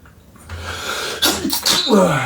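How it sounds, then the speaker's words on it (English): A single loud sneeze, with a sharp intake of breath followed by an explosive burst, close to the listener. "And made me sneeze."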